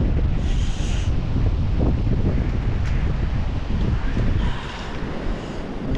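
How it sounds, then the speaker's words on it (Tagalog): Strong surf rolls in at Weymouth Beach, New Zealand, a continuous broadband wash of waves heavily mixed with wind buffeting the microphone, steady and loud throughout. "Malakas ang alon."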